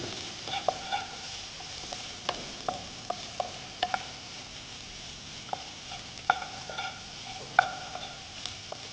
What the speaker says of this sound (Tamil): சின்ன சாப் பண்ணி வெங்காயம் எல்லாத்தையும் போட்டு கொஞ்சம் வதக்கி எடுத்து